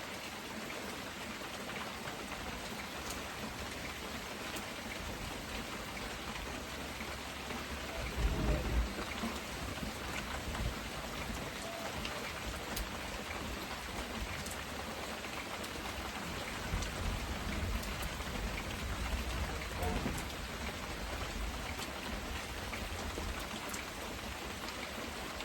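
Heavy rain falls steadily on surfaces around a water tank, a continuous dense hiss with occasional louder gusts and faint rumbles, no voices.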